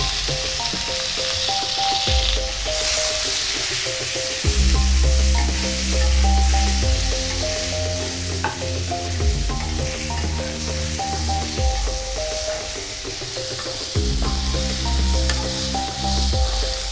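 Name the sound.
frying pointed gourd (potol) in a pan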